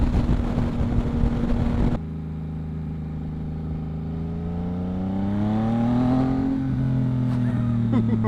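Yamaha MT09 motorcycle fitted with a Two Brothers exhaust, its engine note rising smoothly in pitch as it accelerates, loud and close with steady wind noise.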